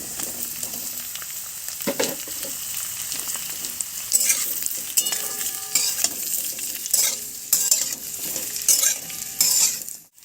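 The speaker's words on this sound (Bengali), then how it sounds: "পেঁয়াজটা আমার হালকা লাল করে ভেজে নেওয়া হয়ে গেছে, আমি এখন দিয়ে দেব পেঁপে আর আলু।" Papaya and potato frying with browned onions and slit green chillies in a pan, a steady sizzle broken by repeated scraping and stirring of a utensil against the pan, close and clear with no voices.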